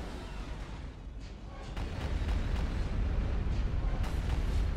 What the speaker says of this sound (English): Bombardment available. Bombardment incoming.